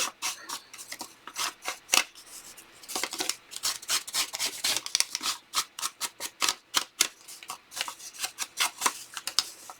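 Oatmeal packaging paper being torn by hand, close up and crisp, in a rapid run of short ripping and crackling bursts.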